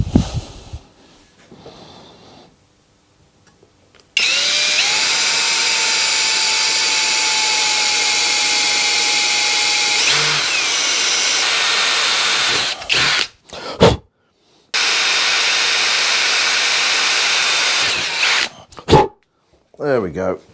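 Small power drill boring a hole in a wheel rim, a loud sustained high whine that runs for several seconds with a pitch drop, then stops and restarts in shorter bursts.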